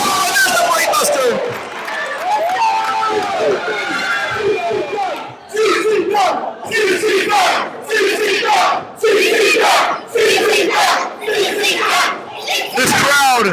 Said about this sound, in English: This crowd showing their support.